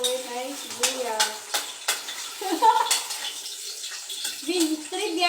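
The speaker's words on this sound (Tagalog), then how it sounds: "then mainit na yung kawali, yan. Lagay na natin ang sibuyas." Onion sautéing in a hot pan for chicken afritada, with bright sizzling bursts and repeated scraping stirs, some clatter and a brief voice-like tone mid-clip, all fairly close.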